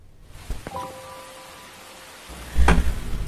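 Rain falls in an animated Spy x Family scene: a soft, steady hiss with faint tonal notes, then a louder, heavier rush of rain toward the end.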